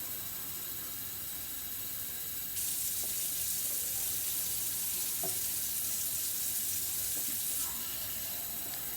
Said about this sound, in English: now I'm going to cover my potatoes with water